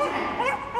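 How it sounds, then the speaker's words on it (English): An agility dog at Crufts barks happily and continuously through a championship run, steady and fairly loud against the arena background, with no clear talk over it. "Lots of happy barking"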